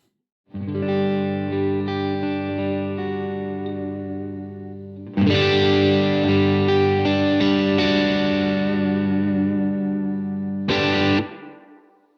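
Electric guitar through a Crazy Tube Circuits Space Charged overdrive pedal, sustained crunchy chords ringing out, then a louder, more aggressive strum followed by a short final chord; no voices.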